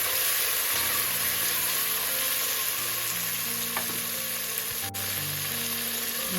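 Chopped tomatoes and green chillies fry in a pan for vegetable biryani, giving a steady, close sizzle with soft stirring and a brief utensil knock, and no voices.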